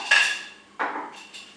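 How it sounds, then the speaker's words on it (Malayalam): A metal wire rack placed inside a pressure cooker while baking an eggless atta chocolate date cake, giving two or three close, bright metallic clinks that ring briefly and fade. "ഇതുപോലൊരു വയർ റാക്ക് എന്തെങ്കിലും ഇതിൻ്റെ ഉള്ളിൽ നമുക്ക് പ്ലേസ് ചെയ്യണം."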